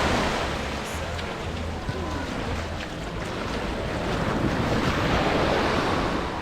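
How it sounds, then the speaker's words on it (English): Waves wash onto the beach at Riccione on a morning walk, with a constant rushing surf and gusty wind buffeting the microphone at close range. "morning routine here in Riccione, walking at the beach."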